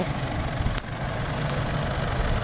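A vehicle engine idles with a steady low rumble while parking on a dry dirt track, continuous and fairly close, with a brief knock partway through.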